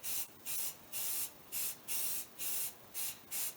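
Spray coating applied in repeated short bursts to seal plastic: eight bursts of hissing aerosol, each about a quarter to half second, separated by brief pauses, close and fairly loud, with no talking.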